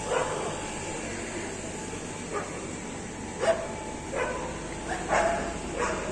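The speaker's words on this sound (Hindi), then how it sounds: "बाहर कुत्ते जो हैं वो भौंक रहे हैं" Dogs outside a home give a few faint, scattered barks and yips in the distance, spread across a quiet background hum.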